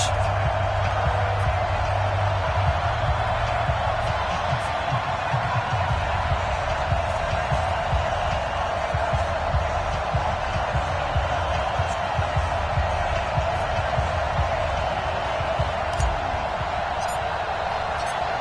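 A stadium crowd in an EA Sports football video game at a Dallas Cowboys versus Tampa Bay Buccaneers match, giving a dense, steady roar with a commentator's voice over it.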